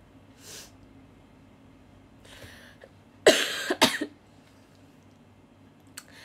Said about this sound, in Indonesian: aku lagi batuk